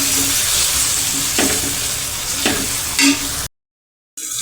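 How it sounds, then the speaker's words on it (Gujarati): Chopped tomatoes sauté in a pan for a pakoda recipe, a steady close sizzle with a few brief stirring scrapes, then a short gap of silence before the frying resumes. "હવે આપણે ટમેટાને સંતળાવા દઈશું,"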